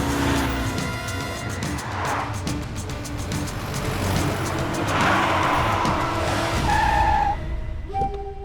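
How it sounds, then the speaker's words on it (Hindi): Car tires skid and screech as a car pulls to a sudden stop in the middle of a road, loud and sustained over engine and traffic noise in an action movie scene. "बीच रास्ते में गाड़ी क्यों रोक दी तूने?"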